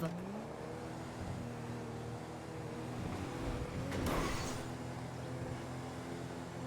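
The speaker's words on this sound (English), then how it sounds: "God, this car's so slow." A car engine in a roleplay video game set in 1985 hums steadily at low pitch, rising briefly as something whooshes past near the middle, with voices chatting over it.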